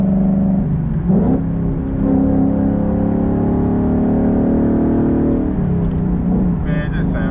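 Car fitted with a Borla Atak muffler, heard from inside while driving: a loud, droning exhaust tone that swells and settles as the engine revs, steady and close throughout, with some talking over it.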